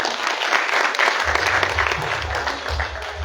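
An audience at a university orientation event applauds in a loud, dense, continuous burst of clapping throughout, with a low rumble joining partway through.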